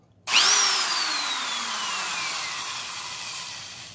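An older American-made Skil single-speed self-drilling fastener driver, 4 amp and 2500 RPM, starts abruptly and runs with a loud, close motor whine whose pitch slowly falls over several seconds.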